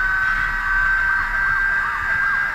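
Police sirens wail in the racing game Need for Speed Most Wanted (2005) during a chase. Several overlapping, cycling siren tones sound loud and continuous above a low engine rumble, with no talking.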